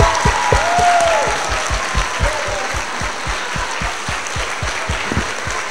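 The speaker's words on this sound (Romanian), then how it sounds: "vă rog să o aplaudați." A hall audience at a high school Christmas celebration in Brașov applauds steadily, with a regular low thumping beat running underneath the continuous clapping.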